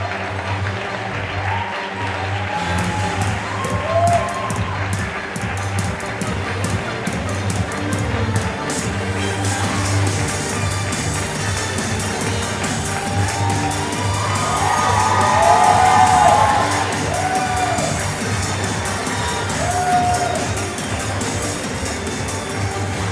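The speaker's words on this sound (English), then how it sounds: "a big round of applause to our three contestants, Jennifer, Lily," An audience at the Miss Gibraltar 2018 pageant applauds and cheers for three finalists, a long loud wave of clapping with whoops and shrill shouts rising to a peak partway through before easing.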